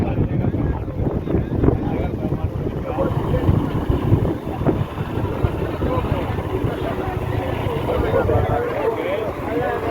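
Strong gusts buffet an outdoor microphone at a flooded area under road reconstruction, a loud continuous roar with rising and falling pushes that runs the whole time.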